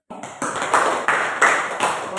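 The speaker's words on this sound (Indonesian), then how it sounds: "Baik, tepuk tangan." A class of students applauds together, a burst of overlapping hand claps that swells and pulses in waves, moderately loud and close, with a little voice mixed in.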